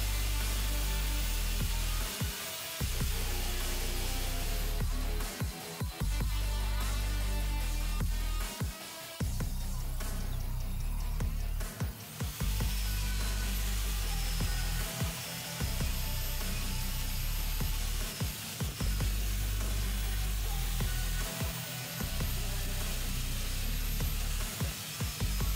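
A loud, continuous high-pitched whine of a KYUHO LG 100 4-inch angle grinder polishing stainless steel, with brief drops where the tool lifts off, close and sustained.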